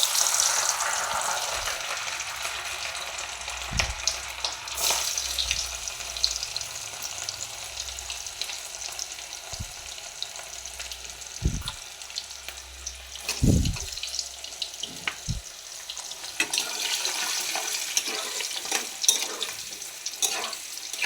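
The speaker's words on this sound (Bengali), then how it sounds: "গাজরটা একটু যেই ভাজা ভাজা হয়ে যাবে" Sliced hard carrots fry in oil on high heat in a pan for chilli chicken, a continuous hissing sizzle with occasional clanks and scrapes of a spatula against the pan.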